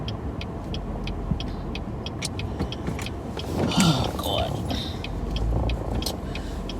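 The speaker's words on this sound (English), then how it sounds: "It was a car that stalled and I was behind it." Car noise on a road with a stalled car ahead: a steady low engine and road rumble, a regular ticking repeating throughout, and a short exclamation about midway.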